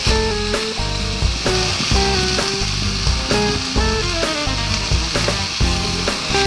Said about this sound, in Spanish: los pimientos y rehogarlo durante unos 3-4 minutos